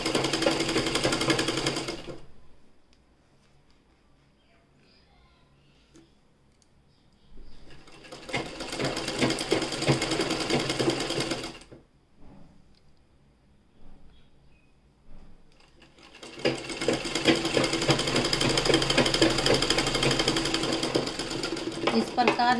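A sewing machine stitches along the edge of a fabric strip in three loud, rapid bursts of clattering needle strokes, separated by quiet pauses, close up with no talking.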